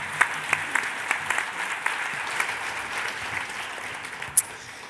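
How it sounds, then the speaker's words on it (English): An audience at a nurses' union talk applauds the panel speakers with steady, moderately loud clapping, and a few sharper individual claps stand out, one especially near the end. "Can you guys just join me in giving everyone on the panel just a round of applause?"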